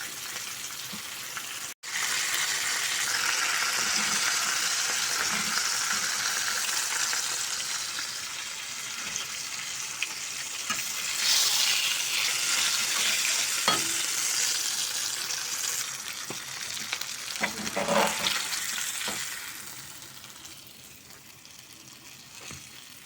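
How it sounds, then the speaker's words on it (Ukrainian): Oil sizzles and crackles steadily in a pan as pieces of silver carp head fry, a continuous hiss with occasional pops and spatters, close up and without speech. "останні кусочки голови смажу"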